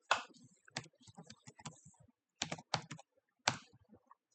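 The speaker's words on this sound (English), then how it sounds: "when you type the password is not visible here for the privacy" A password is typed on a computer keyboard in bursts of quick, crisp key clicks separated by short pauses, close and alone in a quiet room.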